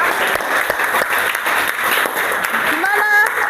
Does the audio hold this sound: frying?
no